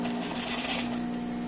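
A sewing machine stitching along the hemline of a lined tailored jacket, running as a steady, continuous mechanical whir with a constant hum close by, with no pauses.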